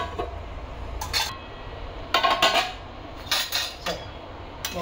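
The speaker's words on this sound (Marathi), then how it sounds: "त्याला मी आता झाकून ठेवते म्हणजे शिजेल." A lid clinks and rattles onto a metal pot of simmering peas in a home kitchen, several short metallic clatters spread over a few seconds against a low background hum.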